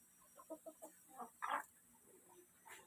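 Rhode Island Red hens in a new coop give a run of soft, close clucks, then a louder squawk and a few quieter calls.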